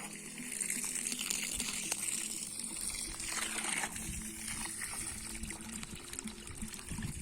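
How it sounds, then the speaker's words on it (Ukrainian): A single sprinkler's water trickles and splashes steadily into an 11-litre measuring bucket, a continuous faint liquid patter with no pauses. "Ось так працює один сплінкер."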